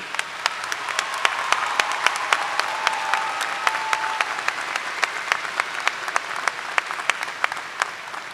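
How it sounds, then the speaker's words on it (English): Graduates and guests at a Westfield State University undergraduate commencement applaud their faculty, a loud, sustained crowd of clapping with sharp individual claps standing out and a faint whistle or cheer mixed in. "One last time, graduates, a round of applause for the faculty who mentored you."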